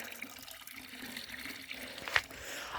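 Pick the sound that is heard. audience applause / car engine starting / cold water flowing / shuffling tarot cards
cold water flowing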